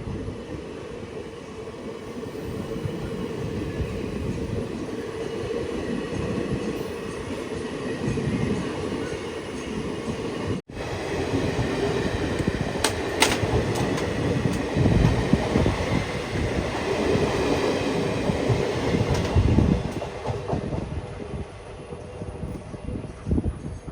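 A Mangaluru–Ernakulam intercity express at a railway station, its wagons rolling past in a steady, loud rumble and rattle that holds for the whole stretch, with no voices over it.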